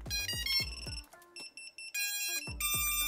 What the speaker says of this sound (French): Alors, je sais, ça va biper tout le temps.